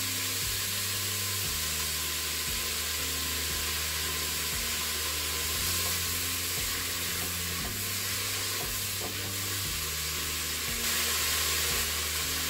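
Onions, peppers and garlic fry in a pan for chilli, a loud, continuous sizzle that stays steady throughout, with a low, repeating musical backing underneath and no talking.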